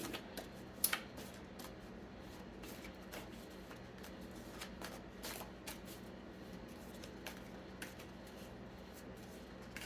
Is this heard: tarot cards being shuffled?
yes